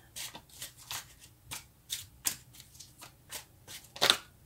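Tarot cards being shuffled by hand in quick riffling bursts, about ten short papery flutters spaced irregularly, close and fairly quiet, with a sharper snap near the end.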